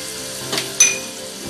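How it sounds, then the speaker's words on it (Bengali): Spice paste of garlic, ginger, green chilli, cumin, coriander and turmeric sautés in hot oil, giving a steady close sizzle with a couple of brief louder crackles and utensil touches. "মশলাটাকে আমি ভালো করে কষিয়ে নেব"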